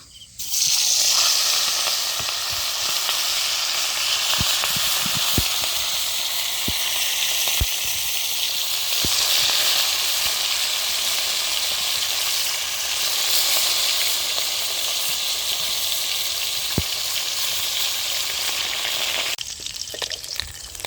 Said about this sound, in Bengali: এবারে এখানে কাতলা মাছগুলো ভেজে নেবো